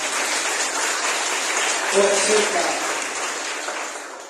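A church congregation breaks into sustained applause, a broad hiss of many clapping hands, while a voice briefly speaks over it midway.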